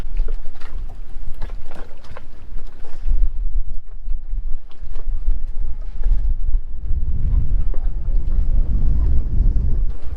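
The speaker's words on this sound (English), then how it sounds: "This wind is crazy." Strong wind buffets the microphone on a moored sailing boat, producing a constant loud rumble with gusts that swell toward the end and faint background clatter throughout.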